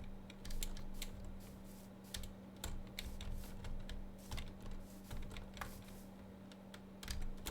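Fast, clattering typing on a loud computer keyboard with a spacebar that only works sometimes, sharp close keystrokes in uneven bursts over a steady low hum.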